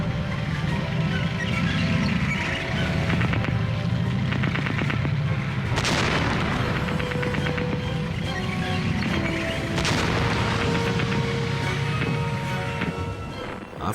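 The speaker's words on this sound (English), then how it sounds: "At last they got within effective range and opened fire again." Tank guns fire in a WWI battle involving a German A7V, with repeated heavy booms and crackling shots over a continuous rumbling background.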